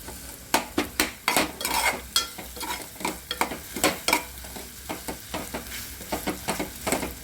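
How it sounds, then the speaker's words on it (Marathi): Tomatoes sizzle and crackle in a hot pan for egg masala while a utensil scrapes and stirs in repeated quick strokes, close and busy. "टमॅटोला भाजू द्यायचं हो"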